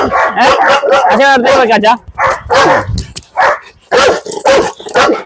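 A dog barks loudly and close by in a quick string of sharp bursts, with talking mixed in.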